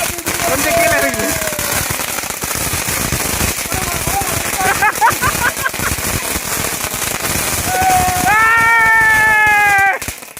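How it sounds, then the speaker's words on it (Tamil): Diwali firecrackers bursting at a family celebration: dense, continuous crackling and popping bursts fill the whole stretch, with excited voices and shrill whistling tones rising over the din. "தீபாவளி சிறப்பாக பட்டாசுலாம் வெடிச்சாச்சு"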